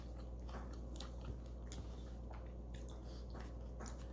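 Close, crisp crunching and chewing with repeated bites into a fried lumpia spring roll, no talking, over a low steady background hum.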